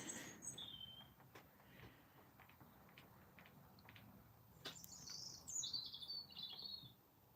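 Birds chirp faintly outdoors near a workshop with a metal mill, with a few short tweets early on and a livelier burst of calls near the end over quiet background noise.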